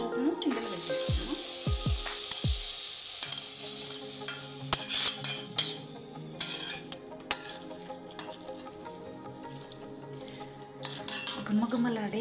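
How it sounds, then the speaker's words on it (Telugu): Hot tempering poured into gongura chutney in an Andhra-style kitchen, giving a steady sizzle with stirring and clinks of a spoon against the pot; a voice speaks briefly near the start. "ఇప్పుడు ఈ పోపును ఇందులో వేసేసుకుందాం"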